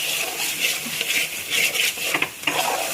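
Capsicum being sautéed in a pan for paneer fried rice: a spatula scrapes and clinks against the pan in quick, irregular strokes over a soft background hiss, close and moderately loud.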